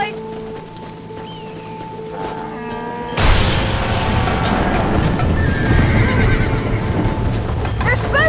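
In the Red Dead Redemption video game, spooked horses neigh and stampede. A sudden loud rumble of pounding hooves is overlaid with repeated whinnies, while voices shout over the commotion.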